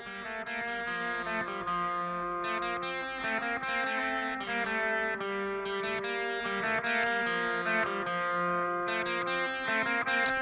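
Distorted electric guitar plays sustained chords and notes, with a pronounced echoing delay trailing each phrase, continuous and fairly loud with no talking.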